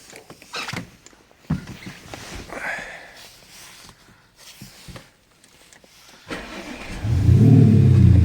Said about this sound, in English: So the last thing to do is just start the vehicle up and give it a good rev out.